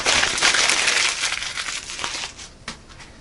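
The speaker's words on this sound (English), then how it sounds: "So smoothly go through the phone book." Blade of a CTS 204P steel knife slides through a phone book, giving a close, loud crinkling and tearing rasp that fades toward the end, with one short sharp tick near the close.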